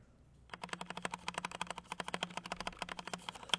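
Rapid, close clacking of typing on a Redragon Fizz K617 60% budget mechanical keyboard, dozens of crisp keystrokes in an even stream after a brief quiet start.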